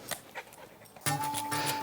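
A female hunting dog named Kate pants in quick rhythmic breaths during heel training, close and fairly loud, with brief whimpers and no talking.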